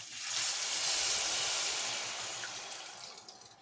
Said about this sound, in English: Now we're going to add 2 cups of water.